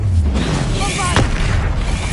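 A Bombarda spell explosion from Hogwarts Legacy booms loud and close, a dense sustained blast with a brief sharp crack in the middle.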